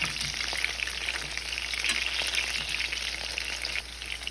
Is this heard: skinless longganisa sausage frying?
yes